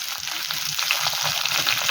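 Cut potatoes and raw banana fry in hot oil tempered with black cumin (kalo jeere), giving a steady, close sizzle that holds evenly throughout, with faint crackles and no voices.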